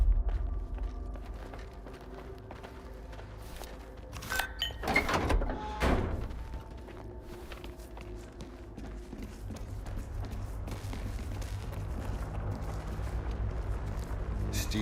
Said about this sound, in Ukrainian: Відчиняй двері, Скіфе.